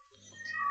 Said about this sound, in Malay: minta maaf lah bunyi kucing kat luar rumah.